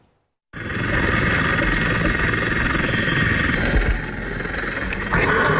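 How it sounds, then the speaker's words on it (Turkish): A helicopter hovers beside a cable car cabin while a rescue team crosses over and evacuates trapped passengers; a loud, steady rotor and engine roar starts abruptly and holds close and continuous. "Kurtarma ekibinin helikopterden teleferik kabinine geçişi ve yolcuları kurtarma anı yer alıyor."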